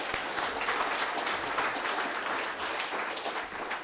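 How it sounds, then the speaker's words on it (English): Steady applause from an audience at an awards ceremony, dense and continuous clapping filling the room at moderate loudness with no voices on top. "there's a special round of applause for everyone that's come from overseas today"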